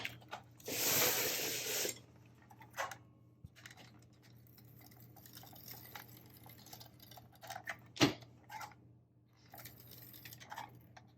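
An ATG tape gun rolling adhesive tape onto the edges of a picture frame: a loud, rough ripping whir for about a second, then quieter clicks, knocks and one sharp clack nearby.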